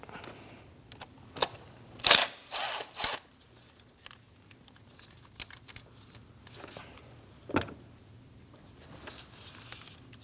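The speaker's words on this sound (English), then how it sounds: "To loosen our ignition coils, we will need to remove our T30 that is holding down the bracket." A ratchet loosens a T30 Torx bolt on the ignition coil bracket of a 2009-2017 Audi Q5 2.0L four-cylinder engine. Sparse metallic clicks and a few short ratcheting bursts stand out against a quiet background.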